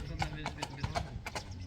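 A tall horse for sale, 1.70 m high, walks with a rhythmic clip-clop of hooves on hard ground, steady and fairly close, while someone talks over it.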